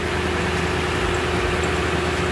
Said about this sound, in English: once you have the engine running